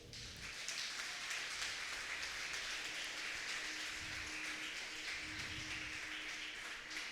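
A church congregation applauds in a faint, distant patter of clapping that stays steady and fairly quiet throughout.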